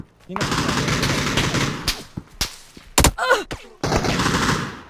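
Rapid automatic gunfire from the battle royale game PUBG crackles in loud bursts, broken by sharp single shots and short gaps, while a player's voice reacts underneath.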